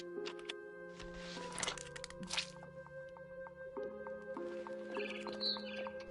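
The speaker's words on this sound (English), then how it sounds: "Then I heard chirping outside my window. It was a barn swallow going back to her nest." In the video game What Remains of Edith Finch, a barn swallow outside a window gives faint, scattered high chirps against a quiet backdrop with soft musical tones.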